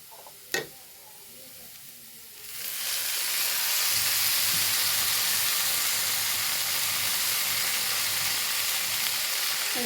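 Moringa leaves hit a hot pan with chicken, a near, sudden loud sizzle that swells after a quiet start and a single knock, then holds as a dense steady hiss to the end, with no voices.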